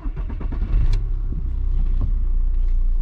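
Audi A4 B7 2.0 TDI diesel engine cranking with a short series of rapid starter pulses, then catching into a loud, steady diesel idle rumble close by, with no speech.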